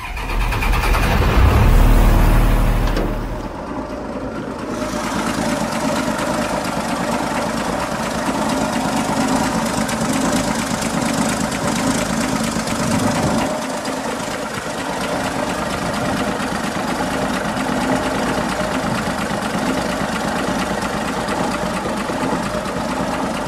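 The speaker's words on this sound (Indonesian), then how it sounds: "Berikut kita lihat dan dengar suara mesin Chevrolet C50 Viking." A Chevrolet C50 Viking bus engine cranks and fires with a loud low rumble, then settles into a steady, rough idle that continues close and alone.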